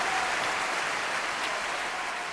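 A large crowd of well-wishers applauds outside castle gates in a steady, even wash of clapping that stays level throughout.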